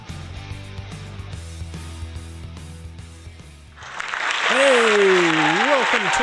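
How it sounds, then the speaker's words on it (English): Applause from a live show audience rises partway through, a broad wash of clapping and cheering following a stretch of music and talk, with a voice sliding over it near the end. "So give a nice big round of applause for Bruce Goldberg"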